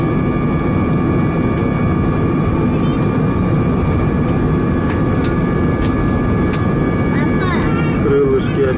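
A passenger jet sits on the ground after landing at the end of a flight from Anapa to Syktyvkar, its engines giving a steady loud roar and whine heard from inside, with faint cabin sounds.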